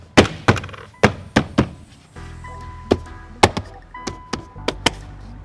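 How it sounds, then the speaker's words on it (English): Push pins on an Infiniti QX60 door panel give a series of firm thunks and snapping clicks up close, spaced irregularly, with a faint tone humming between some of the hits. "You hear all that clicking noise."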